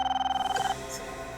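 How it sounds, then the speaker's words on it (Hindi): Telephone bell ringing in a fast rapid trill for under a second indoors during a tense scene, then stopping, fairly faint. "ये उन्हीं का फोन होगा पापा, उन्हीं लोगों का फोन होगा ये।"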